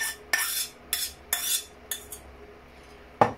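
A small metal strainer holding an onion and white wine reduction is pressed with a utensil, giving several short, crisp metallic scrapes in an uneven rhythm and a sharper clink near the end, with no talk.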